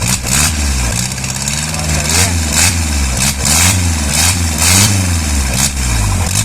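An Isuzu 4BA1 engine runs loud and close on a start-up test, with a steady low rumble rising in a series of quick, rhythmic revs.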